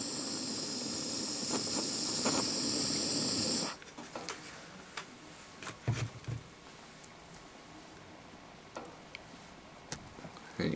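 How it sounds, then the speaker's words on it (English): A torch flame roars close and steady for several seconds while melting the cut tip, then cuts off abruptly, leaving quiet room tone with scattered small clicks and handling knocks. "Quick melt with our torch."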